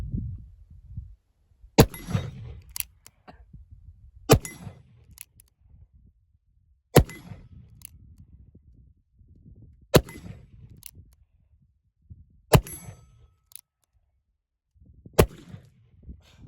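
Black powder .38 Long Colt cartridges fired at a steady pace: six loud, sharp gunshots about two and a half seconds apart, each followed by a fainter clank or echo, in a quiet setting.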